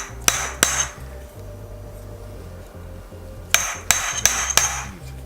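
A star nut is hammered down into an aluminum bicycle steerer tube in sharp metallic strikes: a close pair, a long pause, then a quick run of four more ringing hits with no talk.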